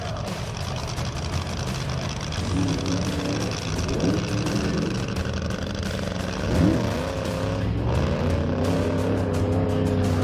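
A blown fuel AA roadster at a land speed race pushed off by a push truck, its engine roaring loud and steady with changing pitch as it gets going, continuous and close for the whole stretch.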